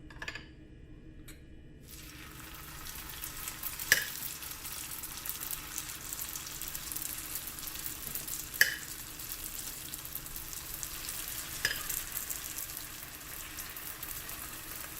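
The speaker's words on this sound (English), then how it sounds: "So my oil is really hot and I'm going to start deep frying my egg rolls." Egg rolls deep-frying in very hot oil in a pan give a steady, crackling sizzle that runs throughout, with a few sharper pops and clinks of a utensil; a quiet gap opens the recording.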